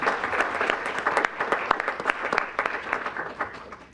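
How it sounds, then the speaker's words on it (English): An audience at a school board meeting applauds a McKinley High School 8th grade teacher named among the Teachers of the Year, with dense, steady clapping sustained throughout. "Let's give her a round of applause as well."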